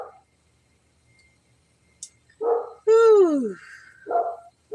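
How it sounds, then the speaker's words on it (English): A dog barks and yelps in a few short bursts, including a rising-then-falling whine-like bark, fairly close and loud against an otherwise quiet background. "None of my dogs just sat around barking like that, bro."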